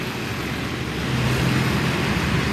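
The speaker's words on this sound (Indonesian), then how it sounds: "arus lalu lintas ini didominasi dengan kendaraan roda 4 ya" Morning road traffic at a busy intersection in Batam, mostly four-wheeled cars, produces a steady, moderate wash of engine and tire noise with a slight swell midway.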